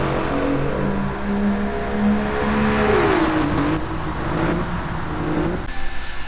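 An Alfa Romeo Giulia GTAm with a 2.9-litre 24-valve twin-turbo V6 revs loudly in Gran Turismo 7, its engine note rising, dipping and climbing again, with steady harmonic tones and no speech.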